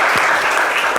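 Audience applause in a lively Ivorian radio-show studio, a steady dense wash of clapping that fills the whole brief moment at close, loud level with no break.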